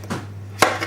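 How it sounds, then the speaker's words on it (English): A knife dices skinned fresh tomatoes for a Provençal sauce, with two soft, quick chops on a cutting board over a steady low hum. "we're going to dice these tomatoes and get them ready for our Provençal sauce"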